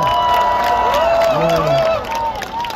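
A large crowd at a presidential campaign rally in a stadium cheers and applauds, loud and continuous, with whistles and shouts rising over the roar and a voice carrying through it.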